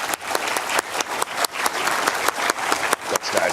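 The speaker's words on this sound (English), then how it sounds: "Please help me give a round of applause." An audience at a 90th birthday celebration barbecue gives a round of applause, dense, continuous clapping from a crowd heard close and loud for the whole stretch, with no voices on top.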